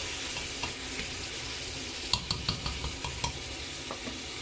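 Jamaican oxtail sizzles and fries in a pot, a steady crackling hiss with a cluster of scraping stirs and clinks near the middle, close and fairly quiet, without voices.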